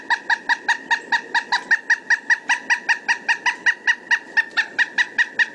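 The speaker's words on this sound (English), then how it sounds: "It is the pileated woodpecker." A pileated woodpecker gives a long, steady series of loud, evenly spaced wuk notes, about two dozen in quick rhythm, close and alone with no voices.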